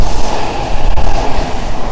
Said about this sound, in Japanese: 急行電車が通過をしていきます。